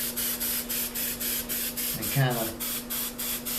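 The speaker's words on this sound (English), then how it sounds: "What I'm doing now is I'm spraying black" Aerosol spray paint can hissing black paint onto a painting in short pulsed bursts, steady and close, with a voice talking over it.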